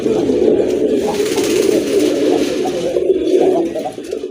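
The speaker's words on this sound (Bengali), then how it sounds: "মাকড়া চোখের কবুতর, যাদের ভালো লেগেছে সংগ্রহ করতে পারেন।" Mottled-eyed pigeons kept for sale coo in a close, continuous low murmur of overlapping calls for several seconds, loud and unaccompanied by talk.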